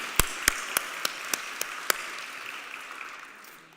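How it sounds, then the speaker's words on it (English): Congregation applause fills a church during a worship service: several sharp, distinct claps stand out near the start over a softer bed of clapping that gradually fades away. "Deserves a round of applause for sure."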